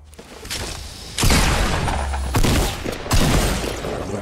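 Several loud gunshots in Fortnite ring out over steady background noise, three sharp bursts spaced about a second apart.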